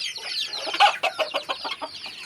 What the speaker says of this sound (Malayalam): ഈ കോഴി വെള്ളപാത്രത്തിൻ്റെ അടുത്ത് ഇപ്പോൾ നിൽക്കുന്നുണ്ട്, വെള്ളം കുടിക്കുന്നില്ല